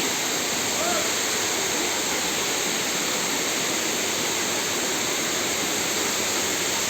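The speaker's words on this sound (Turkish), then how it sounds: "Tam şelalenin yanına geldik." Güzeldere waterfall in Düzce gives off a steady, dense roar of falling water that holds at an even level throughout, close by and with no clear voices above it.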